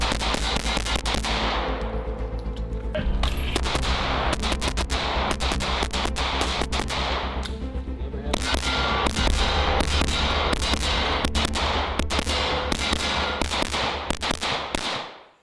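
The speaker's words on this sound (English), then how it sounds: "here's this gun, the P07, on the range" Rapid gunshots from a P07 striker-fired handgun on a shooting range, a loud close series of sharp cracks, some in quick bursts, with a short gap near the start and no talking.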